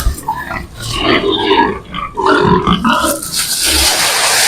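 Several pigs grunting and squealing close by in an irregular, overlapping series, loud and busy throughout.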